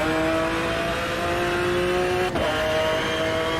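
A Mercedes race car in the Automobilista 2 sim racing game holds a steady, sustained engine drone with whining harmonics, exiting a hairpin with a brief dip and throttle blip partway through, loud and continuous.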